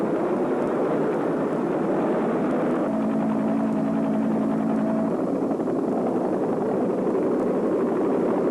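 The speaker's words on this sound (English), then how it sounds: "A U.S. helicopter company scrambles to the rescue from its rice paddy airstrips" A U.S. helicopter lifting off from rice paddy airstrips at Suc Trong near Saigon drones steadily, a loud, rough rotor and engine roar with a sustained tonal whine midway through.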